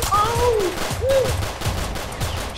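Video game gunfire in a city street setting, rapid bursts of shots mixed with whooshing projectile and vehicle sounds, loud and close, without voices over them.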